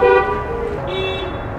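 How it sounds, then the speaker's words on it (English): A car horn toots loudly at the start, followed by a sustained horn tone over steady traffic rumble on a busy street. "lot of honking here"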